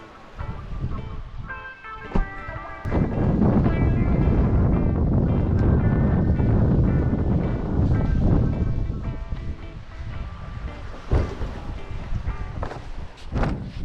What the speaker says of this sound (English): The wind has come up.